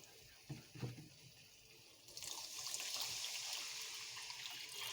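Water poured into a cooking pot of spiced gravy for a soybean dish: a few quiet clinks, then a steady rushing pour that rises and keeps flowing, faint overall, with no speech.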